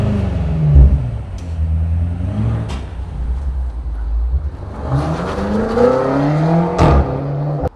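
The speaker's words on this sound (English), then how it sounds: "Listen to this thing. This is the sound of hospice money." A BMW M8 Competition engine revs in a few rising and falling surges, loud and close, with short sharp blips between the pulls and no talk.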